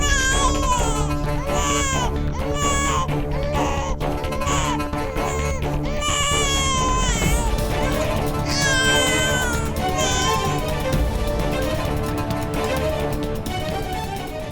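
In a TV drama scene, a baby wails loudly and continuously in rising and falling cries over a steady background of music.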